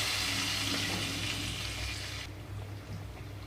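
Hot tempering (tadka) poured into a spinach (palak) curry, a loud, close burst of frying sizzle that drops off after a couple of seconds into a quieter hiss.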